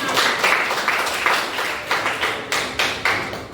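A class closing a lesson on persuasive speech writing claps in unison, a faint, sparse patter of hand claps that falls into a slow, steady rhythm of regular beats.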